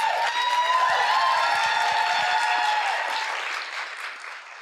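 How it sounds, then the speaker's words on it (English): Warm, steady applause from an audience at a book event, a dense wash of clapping that holds for several seconds before tapering off. "Can we give her a round of applause?"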